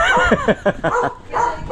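A dog gives a run of short, close yipping barks, about five quick bursts with brief gaps between them, with some whining in between.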